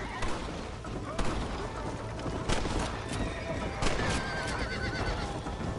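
A horse whinnies over a dense, noisy Red Dead game soundscape with hoofbeats and bursts of gunfire.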